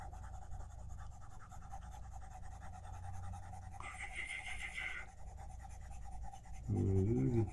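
Scrubbing of an eraser across a board, a soft steady rasp with one brighter, harsher swipe partway through, followed by a low thump near the end, all at moderate volume with no voices.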